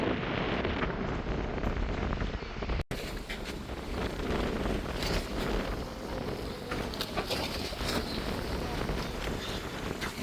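Strong wind blows across a rough sea coast during a storm, a steady loud roar of gusts and buffeting against the microphone with no break.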